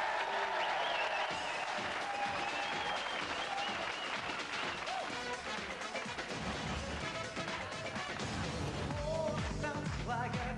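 Studio audience applause on a 1996 Dutch-language TV variety show, loud dense clapping sustained throughout, with music and a few louder hits mixed in.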